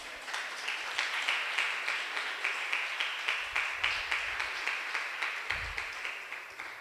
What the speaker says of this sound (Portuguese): Quem crê, aplaude Jesus